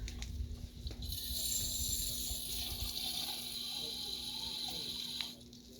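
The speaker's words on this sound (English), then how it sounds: "fill the tank up about halfway full with water" Water gushes from a tap into a fire extinguisher tank, a steady hissing rush that runs for about four seconds and then cuts off, with faint handling noises before and after.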